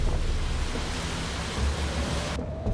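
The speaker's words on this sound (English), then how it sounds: "It was scary to feel the wind increasing, and even scarier to see the waves being unusually big for Erceira." Strong storm wind roars continuously at coastal cliffs in Terceira, Portugal, with winds up to 160 km/h and big waves surging below, forming a loud, dense, unbroken rush.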